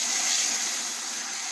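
Water pours steadily into a chicken waterer set on a clean surface, a continuous hissing, gushing rush heard up close with no talking.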